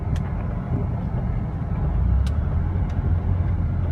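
An Audi A running on petrol/LPG drives steadily, its engine and road noise forming a continuous low rumble from inside the cabin, with a few faint clicks.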